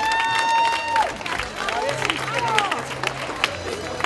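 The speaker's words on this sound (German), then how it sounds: "Einen kräftigen Applaus," An audience at a Shopping Queen event in Waidhofen an der Thaya gives a strong round of applause, steady clapping with crowd murmur and a voice talking over it throughout.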